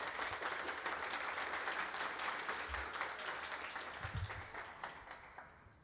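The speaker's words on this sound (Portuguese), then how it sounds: "Uma salva de palmas para Gil Arruda, gente." An audience applauds at a live football discussion event, a dense, continuous patter of clapping from a crowd of moderate size, heard from a little distance and gradually fading toward the end.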